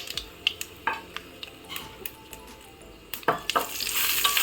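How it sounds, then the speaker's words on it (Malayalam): Dried red chillies frying in hot coconut oil after mustard seeds have popped, for a carrot and beetroot thoran, with soft sizzling, sharp spoon scrapes and clinks against the pan, and a louder crackling burst near the end. "നമുക്ക് വറ്റൽമുളക് അങ്ങോട്ടിടാം."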